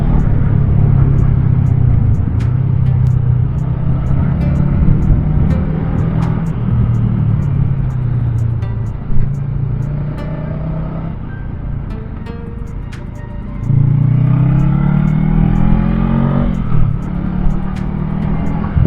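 Honda Rebel 500 cruiser motorcycle engine droning steadily while riding, a deep low rumble that dips and then climbs as it revs up again, loud and close with wind noise.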